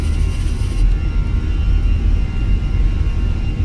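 An Airbus A320 with CFM engines in the Fenix flight simulator spools up to takeoff thrust, a loud, steady, broadband jet roar with a low rumble, heard from the cockpit with no talking.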